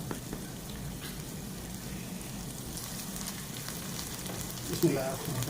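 Sliced onions cook in a pan over a low flame, giving a faint, steady, soft sizzle with light crackles throughout.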